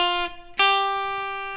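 Guitar bar chord progression played with the top notes voice-led, two clear sustained chords ringing out, the second struck hard and decaying slowly, with no talk.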